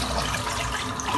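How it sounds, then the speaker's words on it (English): Water being poured out of a full shaving bowl during a head shave, a close, continuous splashing gush for about a second with no speech. "I'm just going to empty this out because my bowl's just full of water."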